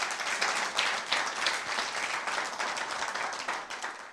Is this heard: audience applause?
yes